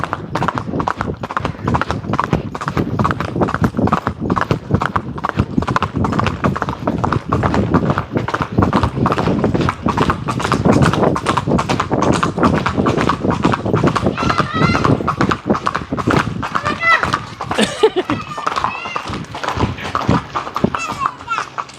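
A ridden horse's hooves clip-clop in a fast, dense rhythm close by, loud and continuous, with brief rustling near the end.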